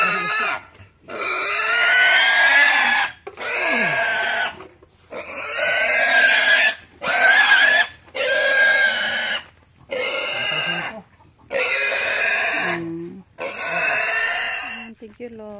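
A farm pig grunts and squeals in a series of loud, close bursts separated by short pauses, repeating about ten times.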